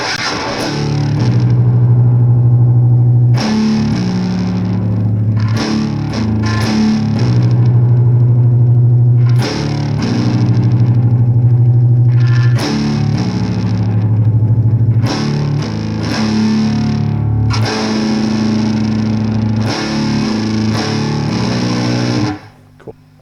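An electric guitar riff played through a heavy fat distortion effect, thick and loud with chugging low notes in repeated phrases separated by brief stops, ringing on until an abrupt cutoff at the end.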